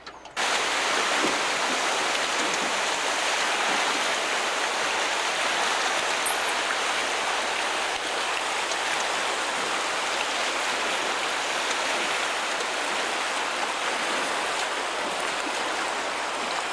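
The McKenzie River rushes through Neils Rapids with a steady, dense roar of whitewater that stays constant and loud, with no voices.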